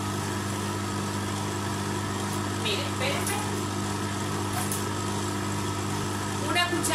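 An electric mixer run at its lowest setting while making a sweet potato sponge cake batter, a steady droning whir that carries through the whole stretch, close by, with occasional faint clinks and a voice talking underneath.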